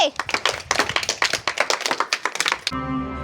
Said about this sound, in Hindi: तो जोरदार तालियों के साथ उसका स्वागत करेंगे और जोर से